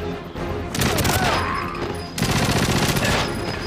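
Rapid bursts of automatic gunfire from GoldenEye 007 on the Wii in a St. Petersburg archives level, loud and dense, in two sustained volleys separated by a brief lull.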